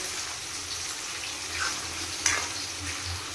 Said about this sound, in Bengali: এখানে পটল ভাজছি তেল ছিল ওর মধ্যে একটু পটলটা ভেজে নিচ্ছি